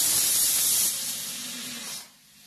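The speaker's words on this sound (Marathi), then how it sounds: "आपली कुकरची 1 शीट झालेली आहे, अजून 3 शिटा द्यायच्या आहेत आपल्याला" A pressure cooker cooking idli sambar lets off a loud, hissing burst of steam that holds steady, softens, and then trails away to a quieter hiss.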